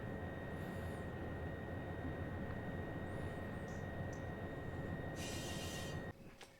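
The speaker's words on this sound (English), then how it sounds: "Oh, we're about to pass those locomotives." Locomotives passing in the Run8 Train Simulator video game, a steady rumbling roll with a constant tonal whine and a brief hiss burst near the end, before the sound drops off abruptly.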